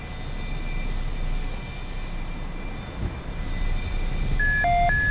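An A-4E Skyhawk jet in the flight game DCS World gives a steady engine roar with a thin whine above it. A few short electronic beeps sound near the end.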